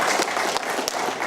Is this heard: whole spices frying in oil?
no